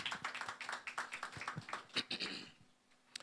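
A small audience claps after a presentation on resource-backed loans and tax regimes, scattered uneven handclaps rattling for about two and a half seconds before fading to near quiet, faint and somewhat distant.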